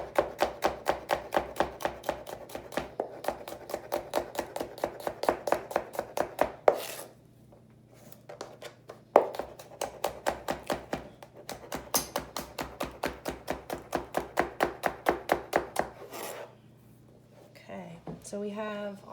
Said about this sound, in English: I'm doing all my knife cuts at once, but keeping them separate because we're gonna add them in stages.